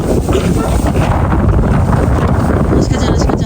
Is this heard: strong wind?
yes